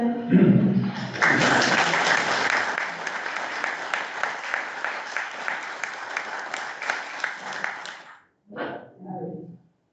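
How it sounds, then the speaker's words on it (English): Conference audience at a rural industry event applauding: a dense burst of many hands clapping that swells quickly, holds for several seconds, then thins out and stops, with brief voices before and after. "the audience is just giving you a round of applause"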